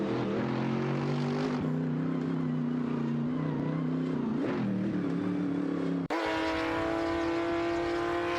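Engines of an Alfa Romeo and a Lancia Stratos HF roar steadily through a video game race, droning loud with shifting pitch, then cutting abruptly to a higher, cleaner engine whine near the end.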